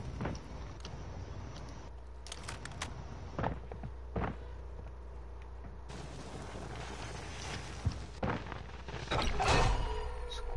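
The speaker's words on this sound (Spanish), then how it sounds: "Un chingo de pasos" Scattered footsteps and thuds in the video game Warzone sound at uneven intervals over a steady low hum, with a louder clattering shuffle near the end.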